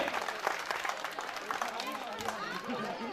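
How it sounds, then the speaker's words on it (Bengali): An audience claps together for a teacher at a school's 25th-anniversary reunion, a steady dense patter of applause and crowd chatter, with a voice speaking over it. "সবাই একসঙ্গে স্যারের জন্য তালি হবে"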